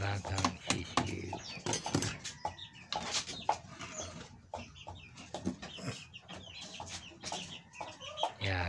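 Chicks peeping and clucking close by as they are fed, a busy run of short repeated calls, with someone talking over them.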